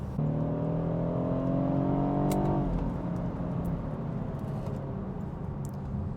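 A 2015 BMW 328i xDrive wagon's four-cylinder engine revs up through a rising hum from inside the cabin, then the pitch drops back and settles into a steady, moderate drone.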